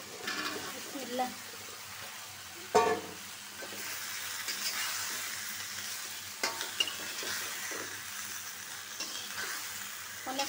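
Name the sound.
eggplant and potato added to frying spice mix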